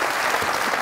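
A studio audience at a televised comedy talk show applauds steadily and densely for the whole short stretch, loud and close with no talk over it.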